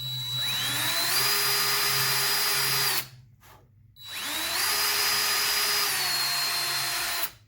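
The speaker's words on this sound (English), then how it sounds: "We're going to set that right there and we're going to drill." A power drill whines steadily for about three seconds, stops briefly, then runs again at the same pitch for another few seconds, close and loud, drilling to a blue-tape depth mark while building a DIY tensegrity table.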